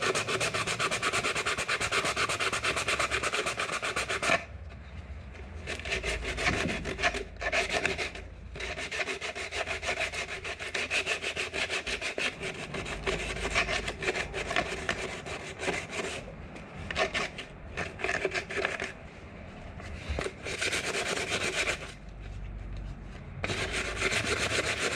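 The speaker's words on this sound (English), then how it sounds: "All right, start sanding this guy down." Steady, coarse sanding strokes rub back and forth across body filler on a car body, close and continuous with brief pauses, no voices.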